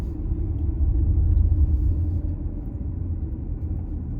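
A car cruises on the scenic road past Disney Springs toward the Osceola Parkway, its low rumble and road noise steady and close from inside the cabin, with no talking.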